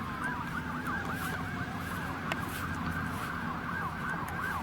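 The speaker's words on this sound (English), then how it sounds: "There's a lot of sirens still going on" Several sirens wail at once, their overlapping rising and falling tones sounding at a moderate distance over steady outdoor noise.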